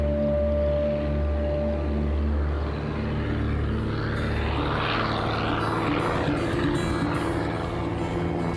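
A spotter plane flying overhead on a Montana wardens' patrol, its propeller drone steady and loud with a rising and falling pitch sweep as it passes, without talk.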